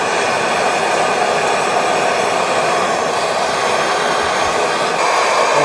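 A torch roars steadily while heating a tool, a loud, constant close hiss with no pauses or talking.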